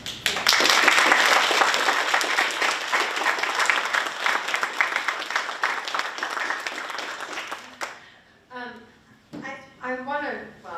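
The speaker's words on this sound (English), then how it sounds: "we just did give them a round of applause" Applause for student speakers at a school research event, dense clapping from a room full of people for several seconds before it cuts off and a voice begins talking.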